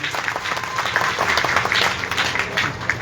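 An audience at a religious guru purnima gathering claps continuously, a dense and fairly close patter of many hands that holds steady throughout.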